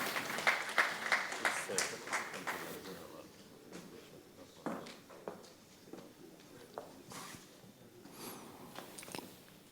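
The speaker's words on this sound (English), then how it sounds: "Please put your hands together for him" Scattered applause from a conference audience welcoming a panel speaker at a free zones session: clapping starts briskly, then thins into sparse, faint claps, with murmured voices beneath.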